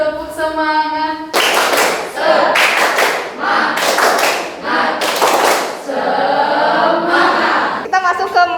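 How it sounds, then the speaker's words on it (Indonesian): Children in a classroom clap out a rhythmic group cheer in several loud bursts of fast, crisp clapping, with a teacher's voice leading between the rounds. "Tepuk semangat."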